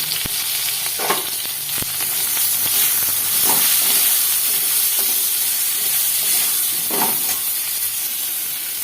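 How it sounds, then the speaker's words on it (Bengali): Eggplant and potatoes fry with salt and turmeric in a pan, giving a steady loud sizzle and hiss throughout, broken by occasional sharp clicks and stirring scrapes, with no talking. "লবণ হলুদ দিয়ে বেগুন আলুগুলোকে ভেজে নেব আমি"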